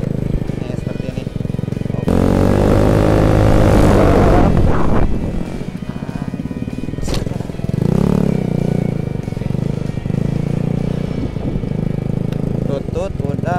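Yamaha Mio motor scooter ridden slowly while practising stopies, the small engine revving up loudly close by, then dropping and rising again, with someone talking over it.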